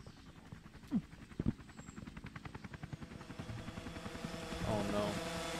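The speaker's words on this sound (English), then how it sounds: "that helicopter's taking those anarchists out" Helicopter rotor chop from the Russian Half-Life video game, a steady rhythmic thumping that builds toward the end amid distant explosion-like bangs and game noise.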